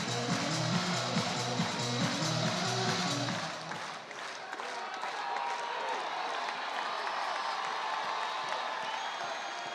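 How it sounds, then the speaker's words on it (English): Record crowd packing the stands at a college baseball game between Ole Miss and Auburn, a broad roar of cheering and applause that is loud at first, dips briefly, then carries on as a steady crowd murmur. "Record crowd in the building tonight."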